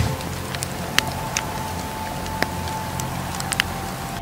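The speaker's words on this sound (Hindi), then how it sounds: "From droplets falling on the roof of your home, to loud showers with thunders" Rain falling on a home's roof, a steady soft patter with scattered sharper drop hits and a faint constant hum underneath, quiet and even.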